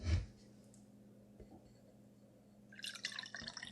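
Dark Matter beer, a 12% ABV brew from Rocket Republic, drips and trickles faintly as it is poured from a crowler into a glass, with a soft splash at the start and a brighter liquid rush near the end.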